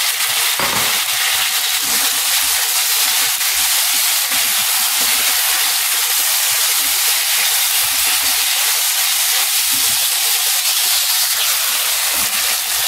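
Capsicum sizzles loudly in a hot pan for chilli paneer, a steady, dense hiss of frying that runs unbroken for the whole stretch, close and constant with no talking over it.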